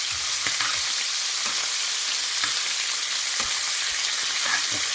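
Butter foams and sizzles steadily in a hot pan while mackerel cooks, a dense, even crackle with a few soft clicks from the pan throughout and no talk.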